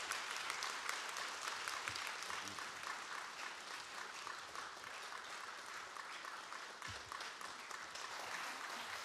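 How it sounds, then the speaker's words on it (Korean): A church congregation at a Sunday afternoon service applauds in welcome of a visiting pastor, a faint, continuous patter of many hands clapping at an even level throughout. "마음으로 박수로 환영하겠습니다"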